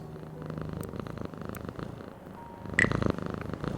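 A cat purring inside the video game Frequency Missing Part, chapter four, a steady low rumble sitting under game ambience and music, with a brief brighter chime partway through.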